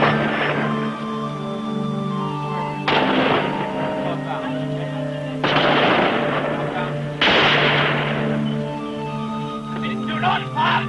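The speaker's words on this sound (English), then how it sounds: "Then the first shot rang out." Three or four loud, sharp gunshot blasts ring out, spaced a few seconds apart, in archival documentary footage of Northern Ireland's civil strife, heard beneath voices and a steady tonal background.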